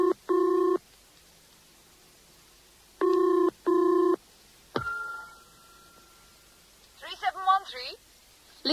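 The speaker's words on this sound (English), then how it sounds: "Yes, I'll phone Lizzie" An old telephone gives two double rings, then a receiver clicks and a dial whirs and rattles as a number is dialled, set in a dramatised indoor scene.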